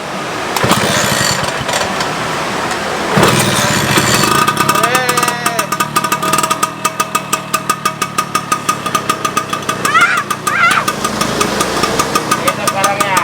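A Vespa Special 90 scooter engine cranking, catching and running, first a rough uneven start and then a loud, rapid two-stroke putter with regular firing pulses; speech is possible but not confirmed.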